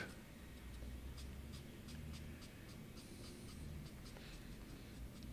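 A marker rubs across paper in a quiet, steady series of soft strokes during a drawing session, worked in the same direction, with a brief sharp tap at the very end.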